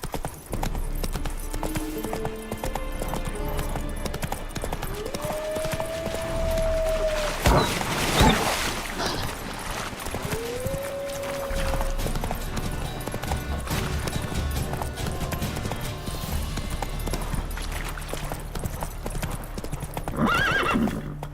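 Horse hooves clip-clop steadily throughout as Roach gallops in The Witcher 3 video game, with loud whinnies breaking through around the middle of the ride and a brief crash of noise between them.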